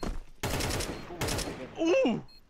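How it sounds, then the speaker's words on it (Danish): Gunfire bursts loudly in a video game, two long rapid volleys in a row, followed by a short voiced sound. "jeg ved, jeg bliver skudt på"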